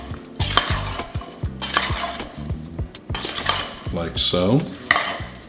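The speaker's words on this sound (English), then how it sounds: "Then we drizzle some olive oil in there, and we just mix these vegetables up, get them coated with seasoning and oil" Vegetables tossed with seasoning and a drizzle of olive oil, with clattering utensil scrapes and clinks against a bowl in bursts, close and loud, and a brief spoken remark near the end.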